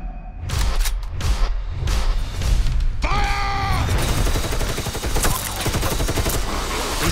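Loud bursts of machine gun fire ring out in a vampire action movie trailer, rapid rattling volleys layered over booming score and dramatic effects, continuous through the clip.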